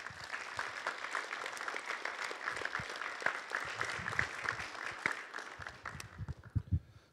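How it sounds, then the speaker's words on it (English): An audience applauds a speaker at a Holocaust-related talk, a steady wash of clapping from many hands held at moderate level throughout, with a few louder close claps near the end. "we need to really acknowledge her for a moment if you want to applaud her"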